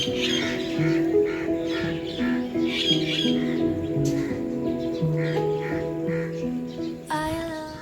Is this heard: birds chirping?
yes